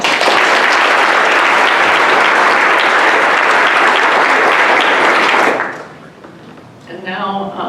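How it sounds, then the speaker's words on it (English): Loud, dense audience applause fills a ceremony hall celebrating a judge's career, sustained for about five seconds before cutting off sharply, followed by a brief quiet and a voice starting to speak. "Round of applause."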